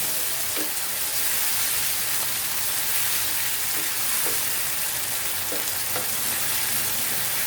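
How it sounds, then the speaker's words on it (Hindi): Tomato chutney fries in a pan with a loud, steady hiss that never lets up, broken by soft scraping strokes as it is stirred. Nobody speaks. "अब इसको 3 से 4 मिनट हम जो है वो इसी तरह फ्राई करेंगे और साथ हिलाते रहेंगे ताकि ये नीचे ना लगे।"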